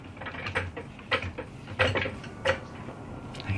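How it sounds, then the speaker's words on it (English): A jack lifting a Honda Civic with a G23 VTEC engine swap makes a string of irregular metallic clicks and ratcheting clunks over a low mechanical hum, fairly faint. "now I need to jack this up"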